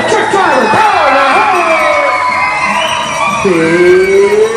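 Lively crowd at an Alberta history quiz show cheers and whoops for a truck driver, a loud, steady wash of voices and shouts with rising yells throughout.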